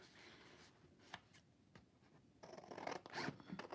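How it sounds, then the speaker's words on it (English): Close, crisp snipping and rustling of scissors cutting glitter-glazed paper, quiet at first, then a denser run of louder cuts and crinkling near the end. "I am going to cut it with scissors"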